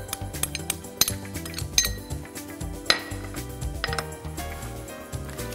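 Kitchen utensils clink and knock against a bowl while ingredients such as grated mozzarella, green onion and kefta are mixed, a series of sharp, close clinks and scrapes over a steady musical background.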